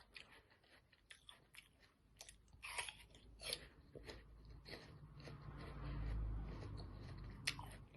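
Someone chews raw yacon root up close, producing intermittent crisp crunches and soft wet bites that fade to a low rumble near the end, with no talking.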